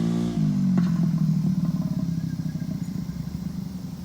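A motorcycle idles and then pulls away near a home garden, its low engine drone running close and loud before a slight shift as it moves off, with faint clatter on top.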